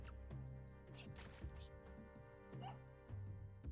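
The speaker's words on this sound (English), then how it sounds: "I hear a dog." A dog barks a few times in the Spelunky video game, soft yips among busy game sound effects and music, with a voice talking over it.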